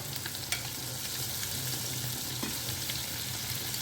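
Onions frying in oil with a close, steady, dense sizzle and occasional faint ticks of a utensil against the pan.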